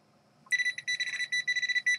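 A Garrett Pro Pointer metal detector pinpointer gives a rapid series of high-pitched electronic beeps in quick pulses, close and fairly loud, with a brief continuous tone in the middle.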